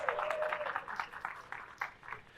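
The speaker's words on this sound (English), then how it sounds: "Give yourselves a round of applause." Real estate conference audience claps in a short, moderate round of applause, uneven and fairly soft, with a brief voice tone near the start.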